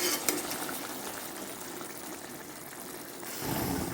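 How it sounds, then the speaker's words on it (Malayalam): Fish roast sizzles in a pan, a soft, steady hiss and crackle heard alone, swelling a little louder near the end. "ഇത് ഫിഷ് റോസ്റ്റ് ചെയ്യുകയാണ്."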